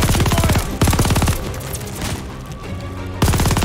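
Gunfire in the video game Call of Duty: Vanguard: loud, rapid bursts of automatic shots at the start and end, with a busier spell of mixed shooting and battle noise in between, no voices.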